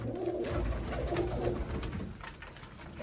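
In a loft, black pigeons give low throaty coos, a few rolling calls close by in the first half that then fade to quieter background murmuring.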